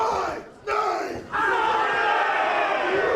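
A wrestling crowd at a Glory Pro Wrestling event roars and shouts a wrestler's name back in unison, a loud sustained chant that dips briefly twice before swelling again into a full arena roar.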